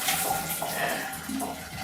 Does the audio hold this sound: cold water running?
yes